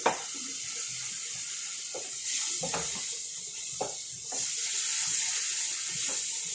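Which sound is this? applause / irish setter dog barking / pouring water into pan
pouring water into pan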